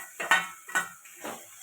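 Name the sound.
stirring ginger, chilli and cumin paste in a pan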